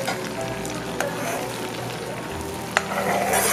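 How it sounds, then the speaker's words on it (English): Peppers and onions fry in melted butter with a steady, close sizzle, broken by a couple of sharp utensil clinks against the pan; no one speaks. "we just want to scent the butter with this uh, peppers and onions"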